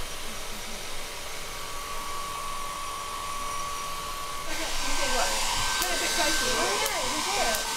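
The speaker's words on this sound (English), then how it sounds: "So what I'm going to do to try and overcome this is use a hairdryer" A handheld hairdryer blows air over the belt of a Van de Graaff generator, a steady whirring whoosh that grows louder and brighter partway through and continues without a break.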